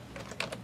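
Several quiet keystrokes typed on a computer keyboard while entering a router address in a browser's address bar, a short run of soft clicks close up.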